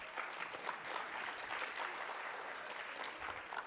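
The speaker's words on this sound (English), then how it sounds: "Give them a warm round of applause." Applause from a conference audience at a general session, a dense steady wash of many hands clapping, heard faintly from a distance with no voices over it.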